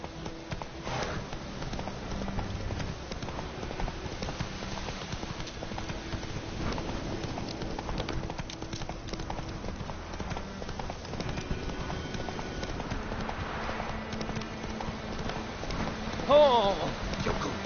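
Horse hooves clip-clop at a steady pace in The Witcher 3 under continuous game ambience, moderately quiet throughout, with a brief louder thump near the end.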